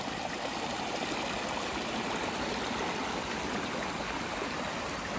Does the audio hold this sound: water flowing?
yes